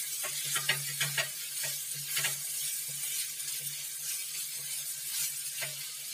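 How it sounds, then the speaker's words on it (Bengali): Chicken kebab frying in a pan sizzles softly and steadily over a low hum, with occasional scraping stirs breaking through the crackle. "দেখুন ভাজা কিন্তু আমার চলছে, প্রায় হয়ে এসেছে।"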